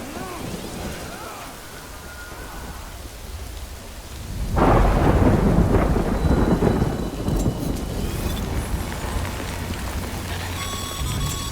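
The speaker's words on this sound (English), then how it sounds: "Good thing it was raining." Steady rain hisses in the Death Stranding game, then a deep thunder rumble breaks in and rolls on under the downpour, with scattered synthetic tones and faint speech over the storm.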